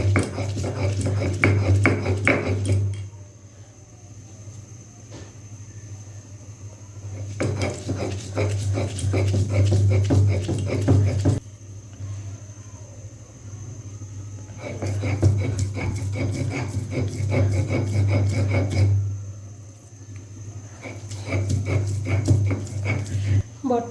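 Mustard greens ground into a bhorta paste on a grinding stone, a steady rough scraping that repeats in long bursts with short pauses between them, close by and fairly loud.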